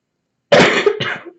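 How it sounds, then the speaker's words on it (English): A person coughs twice after a moment of silence, two close, harsh bursts, the first longer, the second shorter and trailing off. "Sorry. Cough."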